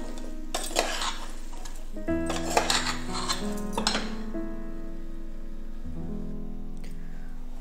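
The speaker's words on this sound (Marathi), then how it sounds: "भाजी आपण ढवळून घेऊया मस्त मसाला आणि हे एकजीव करून घेऊया." A spoon stirring spiced konfal (purple yam) vegetable curry in a pan, scraping and clinking in a few short bursts over a steady low hum.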